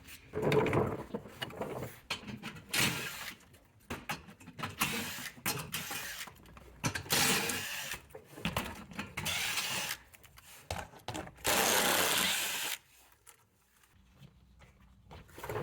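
A ratchet works the 10 mm bolts loose from an access panel on a 2016-2024 Mazda CX-9 in bursts of close mechanical clicking and rattling, with scraping and handling noises between the strokes.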